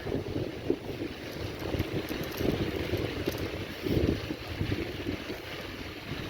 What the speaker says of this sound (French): Ce que vous entendez, c'est le bruit de la mer.